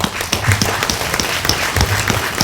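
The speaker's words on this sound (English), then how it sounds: "Give these guys a round of applause." Clapping for students at an elementary school event, loud and close with distinct individual claps over a short burst.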